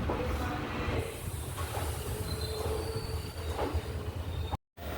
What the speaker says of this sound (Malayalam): നമ്മളെ ട്രിച്ചി തിരുവനന്തപുരം ഇൻ്റർസിറ്റി എക്സ്പ്രസ് ആണ് ഇപ്പോൾ ഡിണ്ടിക്കിളിലേക്ക് വന്നുകൊണ്ടിരിക്കുന്നത്